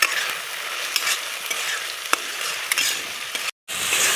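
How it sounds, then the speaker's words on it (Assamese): Cumin powder, salt, chicken masala and turmeric fry in hot oil for a pork dish, giving a bright, crackling sizzle with stirring clinks. A brief silent gap comes near the end. "ইয়াতে লৈছো জিৰা গুড়ি নিমখ চিকেন মছলা আৰু হালধি গুড়ি এইখিনি মই ইয়াতে এবাৰ দি দিম আৰু অকণমান সময় ভাজি লম"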